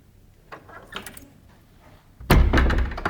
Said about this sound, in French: Je ferme une porte comme ça. Écoutez le bruit que ça fait.